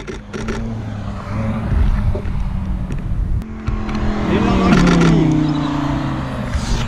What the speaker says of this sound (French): Le premier candidat est une candidate et c'est une Ferrari.